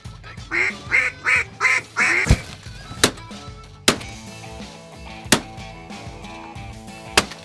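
Several mallard ducks quack in a rhythmic series of five or six calls, followed by sharp loud gunshot-like bangs and background noise during a duck hunt.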